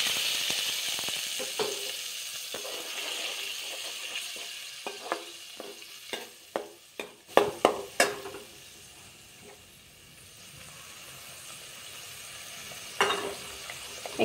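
Spice paste with panch phoron sizzles and spatters in hot oil for an Assamese tomato and fish curry, with a steady frying hiss and a run of sharp stirring clacks near the middle, no talking.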